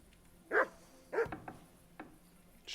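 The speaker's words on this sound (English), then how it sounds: "Shut up, dog." A dog in the medieval world of Kingdom Come: Deliverance II barks a few times, two loud close barks followed by softer yips, with no talk over it.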